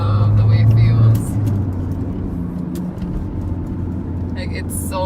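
A Mini Cooper R56 fitted with a sword gear shifter drives along with a steady, low engine drone from inside the cabin; the drone is louder at first, then settles, and a voice is briefly heard.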